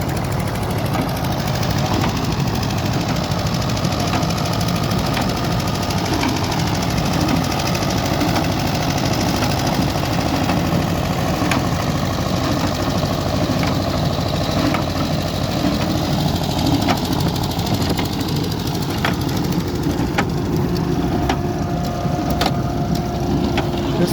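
A big six-cylinder Fordson E27N tractor engine runs steadily alongside a Massey Harris 701 baler baling straw, a continuous loud mechanical drone with rhythmic knocking and vibration and no talk.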